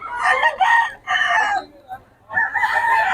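A rooster crows loudly and close up in two long, strained bursts separated by a short pause.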